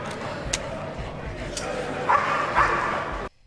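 A dog whimpers and gives short yips and barks in a scene from The Wire, season 3, episode 2, the cries coming in small bursts over a busy background soundtrack.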